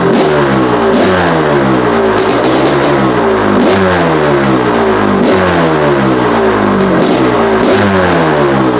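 A Honda CR500 two-stroke dirt bike fitted with a cheap eBay carburetor revs loud and close, its engine note rising and falling repeatedly in quick throttle blips.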